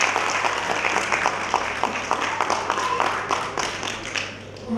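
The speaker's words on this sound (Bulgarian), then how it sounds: "Моля вашите аплодисменти за инженер Ганчева." Audience applause at a political party's closing campaign rally in Gorna Oryahovitsa, Bulgaria: dense, steady clapping from a large crowd, loud and sustained, tapering slightly at the end.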